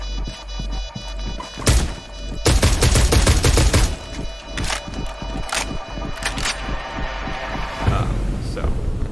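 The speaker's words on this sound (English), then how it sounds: "I like to use the semi-automatic because it does way more damage." Semi-automatic weapon fire in the tactical shooter Rainbow Six Siege, a series of loud sharp shots in irregular bursts, some clustered rapidly, with game background sounds running throughout.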